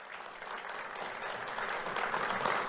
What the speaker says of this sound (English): Let's have a round of applause for Camden Minor.